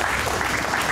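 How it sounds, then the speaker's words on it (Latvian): A studio audience on a televised bingo draw show applauds, a brief, loud, dense burst of clapping that fills the whole moment. "Mēs visi tev aplaudējam un uzmodrinam ar aplausiem"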